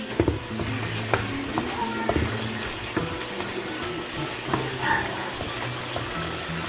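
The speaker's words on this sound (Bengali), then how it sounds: "নেড়ে চেড়ে নিব খুব ভালো করে।" Szechuan beef being stirred in a pan, a steady sizzle with scraping and clinking of the utensil against the pan throughout, close and fairly loud, with no talk.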